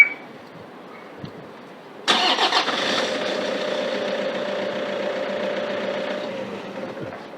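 A Toyota Vigo pickup engine cranks via a push-start button and catches after a quiet moment, then settles into a steady idle hum that continues to the end.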